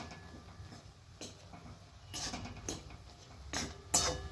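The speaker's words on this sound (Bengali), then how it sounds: "এবার মশলা আর ম্যাগি আর সমস্ত সবজি ভালোভাবে মিশিয়ে নিচ্ছি।" Spoon clatters and scrapes in a pan as Maggi noodles are stirred together with spices, tomato sauce and vegetables, several short clinks close by over a low kitchen rumble.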